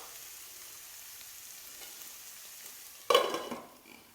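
Beef biryani stirred in a pot, a faint low sizzle for most of the clip, then a sudden louder scrape and stir that fades away over the final second.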